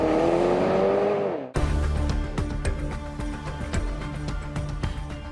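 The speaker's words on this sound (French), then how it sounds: "ce qui se passe quand on colle la pédale d'accélérateur au plancher" A Porsche Panamera sports saloon accelerating hard with the pedal floored: a loud, rising engine note that drops off sharply, then a brief pause before rattling, clicking mechanical noise continues close by.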